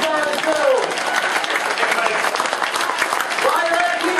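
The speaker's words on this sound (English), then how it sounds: "give that gator a big round of applause" Crowd at a Gatorland gator wrestling show claps loudly and continuously, with a voice speaking over the applause near the start and again near the end.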